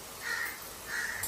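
A crow near a house gives two separate caws, moderately faint, with a short pause between them.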